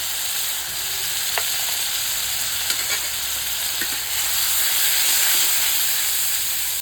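Onion-garlic paste with salt and turmeric hitting hot oil in a frying pan, a steady close sizzle and hiss with a few faint clinks of stirring throughout.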